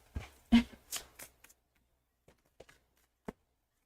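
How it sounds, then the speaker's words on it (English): Cards are shuffled in a few quick riffling bursts, followed by scattered soft taps and clicks of handled cards in a quiet room. "I need my hand back so I can shuffle."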